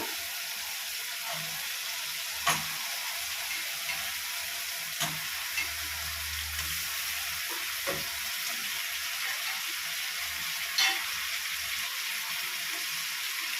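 Chicken sizzling in a pan with softened, cooked-down tomato, a steady soft frying hiss with a few sharp clinks from stirring, fairly quiet throughout.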